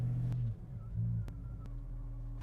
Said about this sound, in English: You can see my throttle position changing as I rev it up.